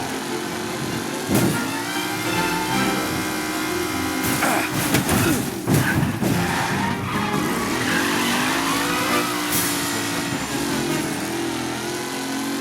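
Race cars speeding around a track in Mafia Definitive Edition, engines roaring loud and continuous with rising revs, tire squeals and skidding bursts in the middle.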